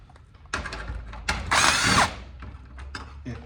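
Power drill backing screws out of a garage door hinge, heard as short close whirring bursts followed by one longer run of spinning, with clicks and handling knocks between them.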